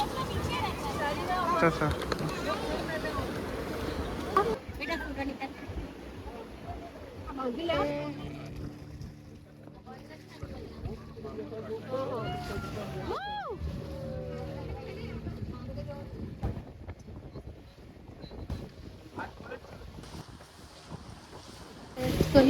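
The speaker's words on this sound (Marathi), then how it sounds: "अशी आहे आमची बोट तुम्हाला दिसत असेल" Tour boat carrying passengers across the sea to an island off Palolem beach, Goa: a steady engine drone with buffeting wind noise throughout, and people talking over it.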